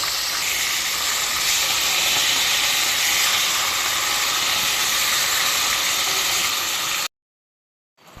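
A pressure cooker cooking fried tilapia lets out a loud, steady rush of steam that hisses without a break for about seven seconds, then cuts off abruptly into silence.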